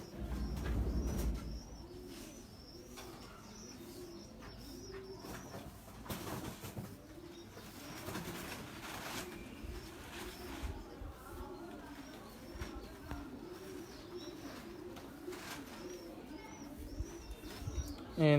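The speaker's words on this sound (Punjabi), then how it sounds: "ਇਹ ਇੰਤਹਾਈ ਖੂਬਸੂਰਤ ਕਬੂਤਰ ਔਰ ਇਹਦਾ ਨਾਂ ਸੁਨਿਆਰਾ ਵਾ।" Suniara breed pigeons give low, rolling coos in a steady repeating pattern, close and fairly soft, while people talk intermittently in the background.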